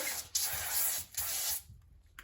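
Cooking oil spray greases a pan in a home kitchen in two hissing bursts, each about half a second long, close and fairly quiet, followed by near silence.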